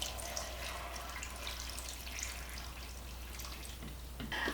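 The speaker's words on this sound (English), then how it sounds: "I'm going to put some more water over it to cover the top of it." Water pours steadily into a cooking pot of squash as it is being readied for boiling, giving a continuous splashing rush that holds at the same moderate level throughout.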